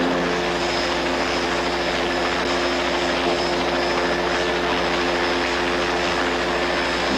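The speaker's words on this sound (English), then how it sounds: "I'm taking this chopper" A military helicopter runs steadily and loudly throughout, its rotor and engine drone continuous and close with no pauses or talk.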